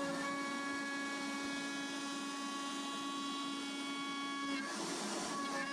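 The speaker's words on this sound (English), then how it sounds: "Cedar's a really good wood to start out with a project like this. It's really easy to carve. It's pretty easy on the machine too." A CNC router carving a cedar wood pen box, a steady high spindle whine with a constant tonal hum and light cutting noise, changing character near the end, moderately loud and alone.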